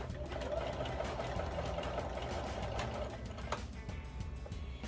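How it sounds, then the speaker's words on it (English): A sewing machine runs steadily, stitching a back stitch through fabric for angel pockets, with a continuous close mechanical whir that stays even throughout. "let's get sewing. And I do a back stitch here as well"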